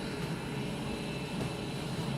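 A fighter plane's aircraft engine in a WebGL dogfighting video game, a steady, fairly faint droning roar with a whooshing airflow hiss, continuous and unvarying, with no talking.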